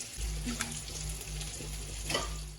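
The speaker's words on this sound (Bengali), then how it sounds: "আলুটা ভেজে নিচ্ছি" Potatoes fry in a pan in a home kitchen, a soft continuous sizzle with a low steady hum underneath and a few light scraping clicks.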